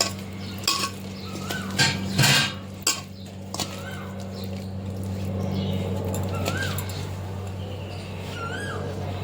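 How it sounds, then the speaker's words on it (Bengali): A spoon clinks and scrapes around a bowl, mixing turmeric with mustard and poppy seed paste in a few loud bursts, with a steady low hum underneath and faint chirps in the background. "সর্ষে পোস্ত বাটা, দিয়ে ভালো করে মিশিয়ে নেব।"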